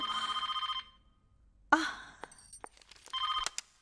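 A telephone rings in two short bursts of trilling bell at the start and end, with a sharp gasp and faint shuffling between, close and clear.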